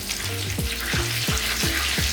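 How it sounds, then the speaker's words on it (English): Hot oil sizzles and crackles steadily as chicken cutlets deep-fry at home, with a faint low whooshing that repeats at a regular pulse underneath. "Deep frying at home can be easy."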